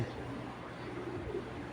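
A khaki-clawed pigeon with mature eyes coos low and steady over a constant hum of background noise, close by and continuous for under two seconds.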